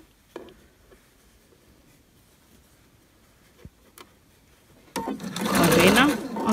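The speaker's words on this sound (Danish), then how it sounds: "så har vi syet en lomme" Near the end a sewing machine stitching a pocket onto a long vest starts up with a loud, fast, close whir, after a quiet stretch of scattered small taps and handling sounds.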